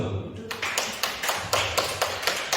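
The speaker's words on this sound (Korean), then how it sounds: "박수!" A church congregation applauds in a quick, steady rhythm of sharp claps that repeat about every half second, fairly close and even in loudness.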